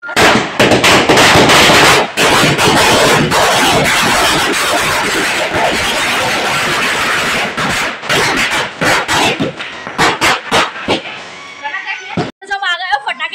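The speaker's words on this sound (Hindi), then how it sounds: "पटाखा फूटेगा" Loud, rapid firecracker bursts at a 2024 Ayodhya Ram Mandir celebration crackle close by in a long chain, with voices talking underneath; the bangs thin out into scattered pops near the end.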